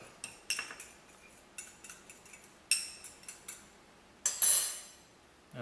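A spoon clinks against a bowl while seasoning and black pepper are mixed, giving irregular sharp taps and scrapes in short bursts, close and fairly quiet, with no talking.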